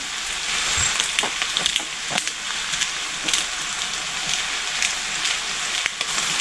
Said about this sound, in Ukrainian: І знову прикриваю кришкою та тушкую далі.